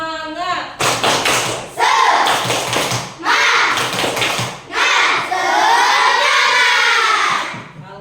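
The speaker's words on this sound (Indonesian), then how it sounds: "mari kita tepuk semangat" A classroom of children performing the 'tepuk semangat' clapping chant, bursts of loud group shouting and rhythmic clapping in several phrases, close and energetic.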